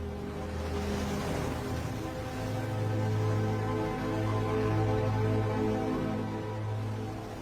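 Ocean surf rolls onto a shore in a continuous, fairly loud wash, steady broadband rushing with a low sustained rumble and a slight swell in the middle, and nobody speaking.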